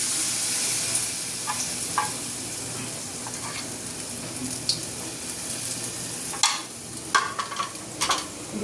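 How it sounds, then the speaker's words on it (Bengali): Lentil fritters (bora) fry in hot oil in a black wok, giving a steady close sizzle with a few sharper crackles and spatters toward the end; no one speaks. "কড়াইতে তেল গরম করেছি, বড়া ভাজবো গরম গরম"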